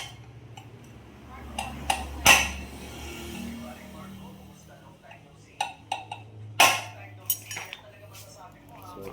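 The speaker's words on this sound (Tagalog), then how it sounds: "Paluin nyo lang yung bearing." Metallic taps on a bearing while refreshing an engine part: two sharp, ringing strikes several seconds apart, followed by a few lighter clinks, under intermittent talk nearby.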